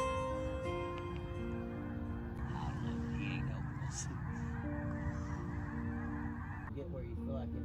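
A large flock of snow geese honks continuously from a distance overhead, a dense wash of overlapping calls over a steady background hum.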